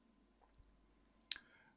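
A single sharp computer mouse click, near and clean, with a faint softer tick just before it and quiet room tone around it.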